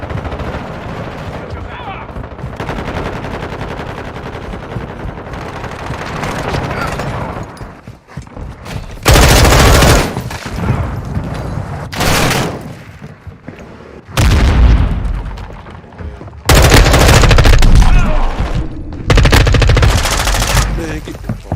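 Gunfire in Call of Duty: Modern Warfare 2 comes in loud repeated bursts of automatic fire and sharp booms over continuous game noise, close and intense, with a voice talking at times.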